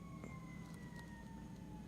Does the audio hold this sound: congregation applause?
no